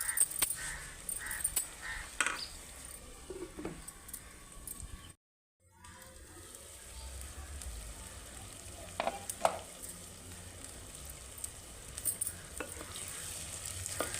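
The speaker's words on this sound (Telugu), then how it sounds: "ఈ టమాటాలు బాగా మెత్తగా మగ్గాలి నూనెలోని." Two chopped tomatoes fry in oil with a steady low sizzle and occasional clinks and scrapes of stirring, with a brief silent gap partway, and faint crow caws sounding in the background.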